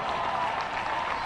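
Crowd applauding an outfield catch in right center at a college baseball game, Georgia at Florida; a steady, dense round of clapping that holds at an even level throughout, with no voices over it.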